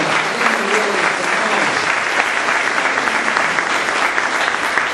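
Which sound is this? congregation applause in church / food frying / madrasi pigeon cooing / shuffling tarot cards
congregation applause in church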